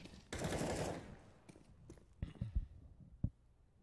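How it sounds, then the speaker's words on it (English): Desert Eagle pistol fire in a CS:GO professional match: a loud close burst of gunfire, then several sharp separate shots spaced unevenly, with quieter game sounds between them. "Olafmeister with a couple nice deagle shots"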